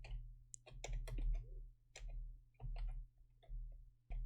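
Quick bursts of light clicking from a computer keyboard come in uneven clusters with brief pauses between them, close and fairly quiet over a faint electrical hum.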